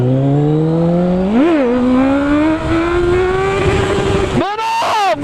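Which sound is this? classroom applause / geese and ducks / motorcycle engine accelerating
motorcycle engine accelerating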